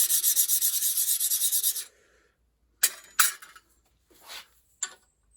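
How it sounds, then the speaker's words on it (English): A DMT diamond stone rubs back and forth across the face of a small lapping stone, a rapid gritty scraping burst for about two seconds, then a few short separate scrapes with quiet gaps between. "I use a DMT diamond stone just to rub the face of my little lapping stone."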